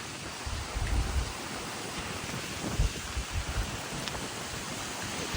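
Hurricane Milton's wind gusts roar as broad, steady rushing noise with buffeting swells and thumps against the microphone, loud and continuous, with no voices.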